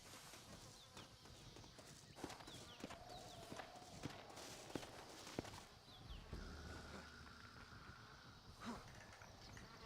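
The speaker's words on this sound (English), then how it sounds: "Looks like Carlos left us some horses." Horses walk at a steady pace in Red Dead Redemption, their hooves clip-clopping in an uneven rhythm at moderate distance, with faint insect chirps and ambient outdoor sound underneath.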